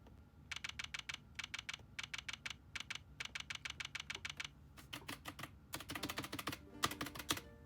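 Keyboard typing sound effect from the Ace Attorney Investigations video game: rapid clattering keystrokes in short rhythmic runs separated by brief pauses, growing denser and louder toward the end.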